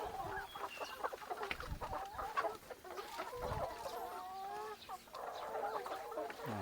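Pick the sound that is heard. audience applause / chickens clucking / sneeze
chickens clucking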